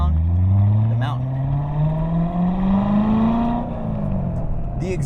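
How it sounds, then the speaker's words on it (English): Corvette V8 exhaust rumbles while driving down a mountain road, a deep loud drone rising steadily in pitch as the car accelerates, then easing off. "The exhaust sounds so good. This is probably the best sounding bass engine that you can find in a Corvette."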